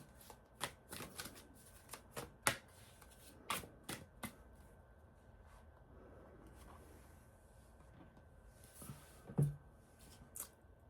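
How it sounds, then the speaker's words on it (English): Guiding Light Oracle cards are shuffled by hand in a quiet room, with a run of crisp riffling flutters and slaps in quick bursts, then a pause before a few more. "let me pull one of our Guiding Light Oracle cards for a clarifying card"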